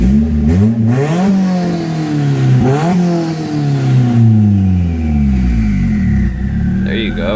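Turbocharged car engine revving up and down repeatedly, rising and falling pitch sweeps with a loud close rumble throughout, ending with a brief high whistle as revs drop; no one talks.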